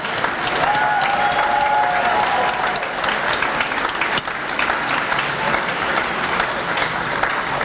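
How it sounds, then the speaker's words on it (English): Steady applause from a high school commencement crowd honouring graduating students, sustained and fairly loud for several seconds, with faint voices mixed in. "Big round of applause."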